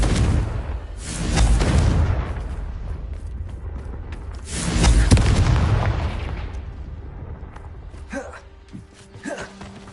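Confringo fire spell blasts in Hogwarts Legacy, two booming explosive bursts about three seconds apart, each with a long rumbling decay, followed by quieter crackles and a faint tonal chime.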